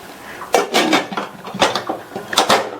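Metal pressure cooker lid being fitted and closed: a few sharp metallic clanks and scrapes in quick bursts, close and fairly loud.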